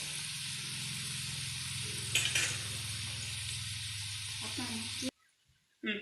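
Sliced okra fries in a pan until crisp, a steady close sizzle that runs on loudly and then cuts off abruptly near the end, where a brief voice is heard.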